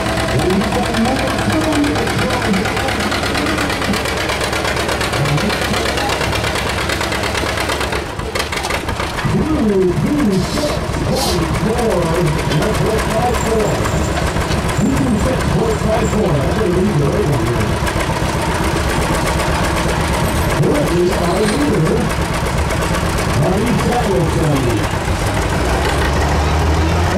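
An International Harvester M antique tractor engine runs steadily at a show, a continuous loud rumble with a rhythmic chugging beat that persists throughout, while people talk nearby.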